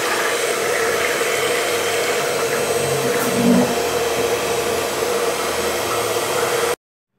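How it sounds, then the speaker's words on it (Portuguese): Electric hand mixer whirring steadily through a bar soap mixture, a continuous loud motor drone that holds even for several seconds and then cuts off abruptly. "para acelerar, eu vou dar uma batidinha com a batedeira"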